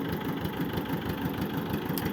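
A T-25 tractor engine, being sold off for parts, idles steadily and evenly, a close, continuous mid-low mechanical drone with a faint vibrating rattle and no talk.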